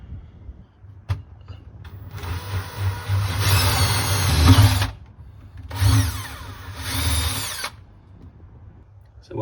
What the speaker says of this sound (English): I'm just going to drill one hole through from this side